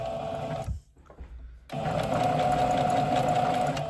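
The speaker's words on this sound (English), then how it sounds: "we're just going to do a quick back stitch here" A sewing machine stitches a t-shirt seam with a steady, close, whirring hum. It stops for under a second, then restarts and runs evenly through a quick back stitch.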